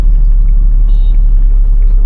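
A car engine idling and creeping forward in heavy city traffic during a U-turn gives a loud, steady low rumble throughout, with no voices.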